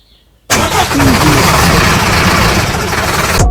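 An old Peugeot 106 car engine cranks and catches after a short quiet lead-in, then runs loud and close, a steady rough idle filling the rest.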